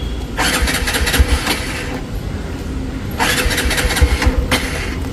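A motorcycle running on E20 fuel is cranked with its electric self-starter while the throttle is held slightly open. Two distinct bursts of cranking whir sit over a low, steady engine rumble, close and fairly loud.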